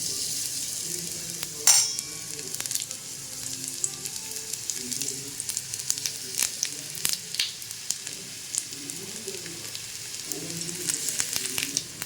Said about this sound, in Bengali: আর এদিকে ভাজবে হচ্ছে পেঁয়াজ পকোড়া